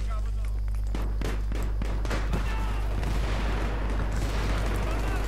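Grenade explosions in Battlefield 3 gameplay, a dense barrage of booms and bursts over heavy constant low rumble, loud and continuous, with someone talking throughout.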